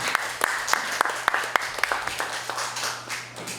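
An audience claps to welcome a speaker to the podium at a lecture. The applause is a brief burst of scattered, fairly close hand claps that thins out over a few seconds.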